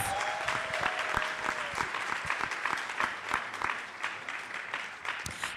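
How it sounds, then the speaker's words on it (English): Enthusiastic applause from an audience fills the room, dense steady clapping with a few louder claps standing out, lasting throughout. "Big round of applause"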